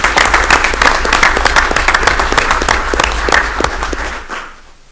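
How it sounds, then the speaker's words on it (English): Audience at a board of education meeting gives a round of applause, dense overlapping claps that hold steady and then fade out in the last second. "let's give him another round of applause for"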